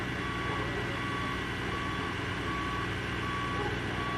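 A fire department ladder truck backs up at a crime scene with police activity, its reversing alarm sounding evenly spaced steady beeps over a constant engine and outdoor rumble, with no voices.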